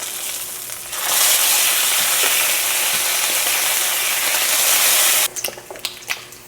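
Strips of homemade bacon frying in a pan, a loud dense sizzle that swells in after a second and holds steadily for about four seconds before dropping away to faint crackles and small pops.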